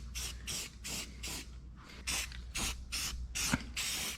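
Aerosol can of undercoating sprayed onto the inner rocker panels of a 1976 GMC C10 truck, about ten short hissing bursts in an uneven rhythm, close and clear with no talk.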